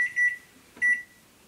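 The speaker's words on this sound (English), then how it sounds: "There's the timer, 15 minutes exactly." Two short bursts of electronic beeping from a kitchen timer, each a quick cluster of high tones, separated by a brief pause.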